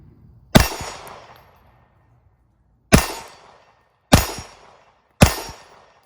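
Four sharp pistol shots from an Arex Delta Gen 2 ring out at about 30 feet, each followed by a short metallic decay; one isolated report, a long pause, then three more at roughly one-second intervals, with no talk.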